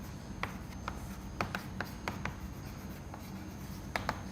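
Marker or chalk writing out an equation during a fluid mechanics lecture, scattered sharp taps and short strokes on a board over a steady room hum, no talk.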